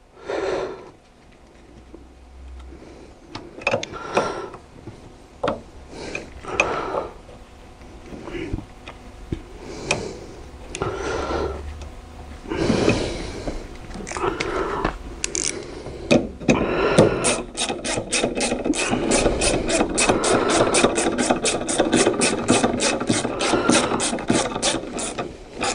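A ratchet tightens screws during filter work on a Peugeot RCZ, with scattered clicks and clanks of tools and parts giving way to long, fast, steady runs of ratcheting close by.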